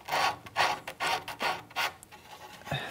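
Rhythmic back-and-forth rasping of sandpaper wrapped around a length of automotive hose, sanding the carved wooden neck of a Telecaster-style guitar; about seven close strokes in three seconds, with no talking.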